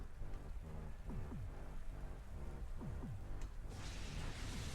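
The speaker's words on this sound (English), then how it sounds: "But the rain is on the field." Steady hiss of rain falling over a Pokémon video game battle field, continuous and fairly loud throughout, with a melodic battle music loop playing beneath it.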